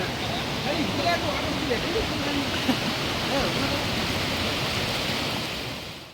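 Rain-swollen waterfalls in the Sileru hills after a single day of heavy rain pour with a loud, continuous roar of rushing water, and a person talks over it.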